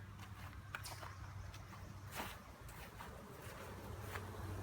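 Honeybees buzzing around garden hives on a hot day, a soft, continuous outdoor drone with occasional louder passes of individual bees, faint and steady throughout.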